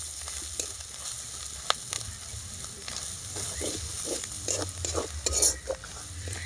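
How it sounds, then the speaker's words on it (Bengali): Ginger paste, turmeric and chilli powder sizzle steadily in hot oil for a shellfish curry, with close scraping stirs and occasional clinks of a spatula against the pan throughout. "এবারে মশলাগুলোকে ভালোভাবে কষে নেব হলুদ লঙ্কা গুঁড়ো দিয়ে"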